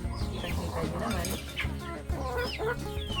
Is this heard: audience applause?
no